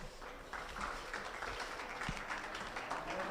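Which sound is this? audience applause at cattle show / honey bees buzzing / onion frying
audience applause at cattle show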